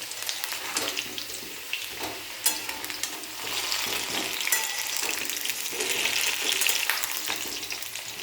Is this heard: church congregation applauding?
no